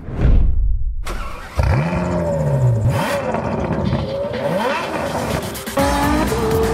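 A Ferrari V12 car drives hard and close, its engine revving and climbing in pitch through several sweeps, with a brief tire squeal and changing road roar between shifts.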